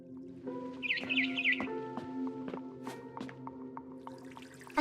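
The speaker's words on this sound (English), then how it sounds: "Then I heard chirping outside my window." A barn swallow in the video game What Remains of Edith Finch gives a quick run of high chirps near the start, set against steady sustained tones and soft ambient game sound.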